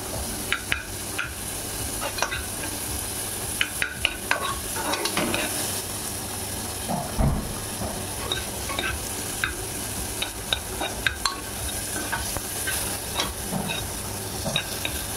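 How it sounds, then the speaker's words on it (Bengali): Onions fry in a pan with a continuous sizzling hiss, broken by sharp scrapes and clinks of stirring at irregular intervals, close up with no talking. "পেঁয়াজটা আমার হয়ে গেছে ভাজা ভাজা।"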